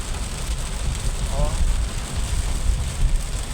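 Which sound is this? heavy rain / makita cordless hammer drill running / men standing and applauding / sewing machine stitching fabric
heavy rain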